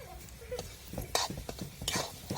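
A spoon scrapes and stirs gravy through sizzling masala in a pan for matar paneer, with irregular clinks and soft frying hiss, close and fairly quiet.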